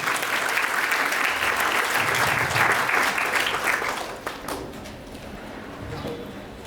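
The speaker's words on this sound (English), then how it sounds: "Please give them a big round of applause" An audience at a school presentation gives a loud, dense round of applause that stays full for about four seconds, then thins and fades to scattered claps and room murmur.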